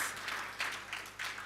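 Steady applause from an indoor audience at a government campaign launch, a faint wash of many hands clapping in recurring swells for over a second with no voices.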